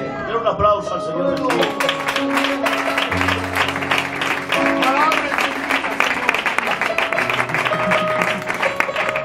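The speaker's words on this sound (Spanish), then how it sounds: "Quiero un aplauso al Señor" A church congregation claps for the Lord during a service, a busy, fairly loud clatter of many hands. Voices and sustained tonal sounds run underneath throughout.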